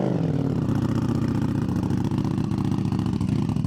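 Ducati Streetfighter V4S motorcycle engine idling just after a cold start, a loud, raw, close-up rumble with steady rapid pulsing and slight uneven misses, with no voices.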